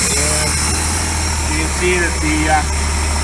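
A Honda GL1500 motorcycle engine idles with a steady low hum that runs throughout, while someone talks over it.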